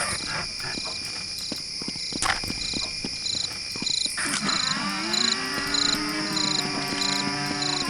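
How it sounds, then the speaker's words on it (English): A very loud cricket chirps in the Half-Life mod Half-Rats, a high, continuous pulsing trill with rhythmic clicks, later joined by warbling tonal game sounds. "That might be the world's loudest cricket sound effect"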